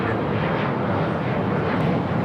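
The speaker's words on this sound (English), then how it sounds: "This is United Express 5628 taking off to Jackson on an E175." A United Express Embraer E175 jet takes off from a runway at LAX, a loud, continuous engine roar that stays dense and even throughout.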